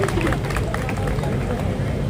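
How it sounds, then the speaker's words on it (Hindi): An audience applauds at a poetry recital in India: a steady, dense patter of clapping mixed with crowd murmur, continuing for a couple of seconds. "शुक्र है कुछ तालियां बज गई आपकी"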